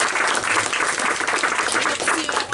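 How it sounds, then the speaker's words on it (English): A science talk audience at a bar event applauds the speaker, a loud, dense burst of many hands clapping that holds steady for a few seconds with no talk over it. "if we can give Rita another round of applause"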